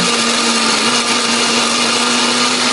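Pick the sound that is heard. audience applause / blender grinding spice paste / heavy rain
blender grinding spice paste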